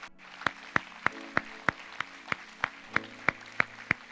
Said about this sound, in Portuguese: pode aplaudir mais forte para Jesus nessa noite